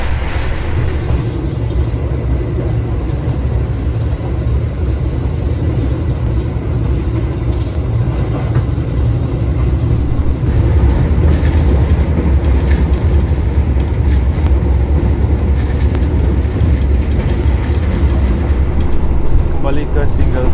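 Steady low rumble of a moving Argo Bromo Anggrek express train between Jakarta and Surabaya, heard from inside the passenger car as a continuous dense drone that swells slightly in the second half, with a voice talking over it.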